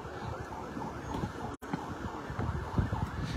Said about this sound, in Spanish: ahí viene arribando la ambulancia